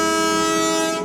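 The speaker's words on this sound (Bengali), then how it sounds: "ট্রেন এগিয়ে যাচ্ছে এই গয়াবাড়ি থেকে শিলিগুড়ির উদ্দেশ্যে।" The Darjeeling toy train on the Gayabari jungle ride toward Siliguri sounds a long, loud, steady horn blast that holds for about a second before fading slightly. No voices are heard.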